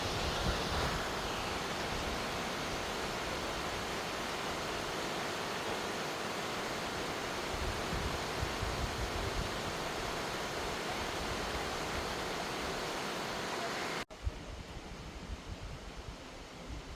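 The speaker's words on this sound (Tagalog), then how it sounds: "Ang ganda ng ilog." River water flows at Three Angels Eco Park in Puerto Princesa, a steady, close, broadband rush that holds evenly before shifting abruptly near the end.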